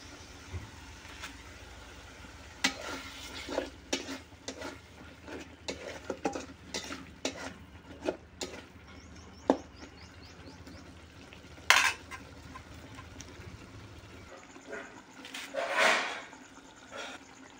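Tomatoes being fried and stirred in oil with masala in a pan for a crab and potato curry; a spoon scrapes and clatters against the pot in irregular knocks over a low sizzle, with a couple of louder clanks.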